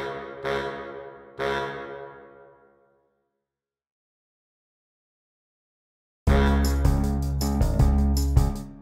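Saxophone sample with reverb in a music production: two short notes ringing out into a long reverb tail, then silence, then a louder run of sustained sax phrases.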